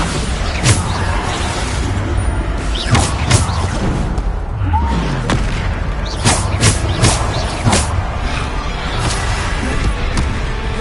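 Repeated Bombarda spell blasts in a Harry Potter–style video game, a series of sharp bursts and thuds recurring every second or so over a constant rumbling game background, with no talk in the clip.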